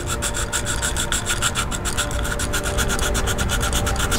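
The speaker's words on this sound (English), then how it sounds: "My sanding block here," A sanding block rubs over a plastic part of a Metaluna Mutant monster model kit, making steady, close rasping strokes in a quick even rhythm with no talking.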